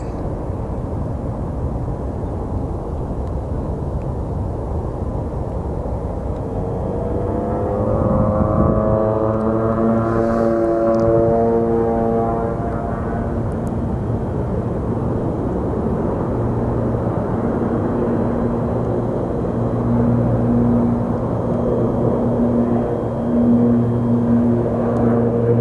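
Airplane taking off from Sky Harbor Airport, a steady loud engine roar that swells midway and carries on with droning tones as it climbs away, no talk.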